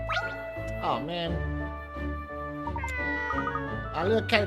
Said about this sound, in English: Our little cat looks not stray. Perhaps it's lost.